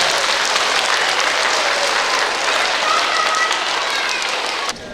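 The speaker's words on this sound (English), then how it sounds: "let's give a big round of applause" Sustained crowd applause at a school assembly, dense and steady clapping from many hands, continuing for several seconds before tapering slightly at the end.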